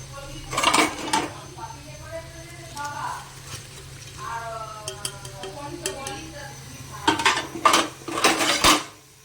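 Fish pieces slid into a simmering Bengali mustard-poppy curry in a pan, with clinking utensils, stirring and a soft sizzle under a speaking voice, ending in a burst of louder metallic clatter.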